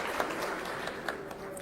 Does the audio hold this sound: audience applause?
yes